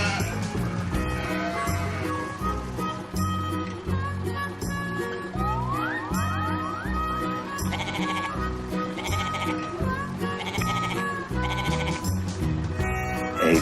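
Sheep bleating in a farm-animal setting, a few short wavering bleats set over a busy, continuous musical backing that carries through the whole stretch.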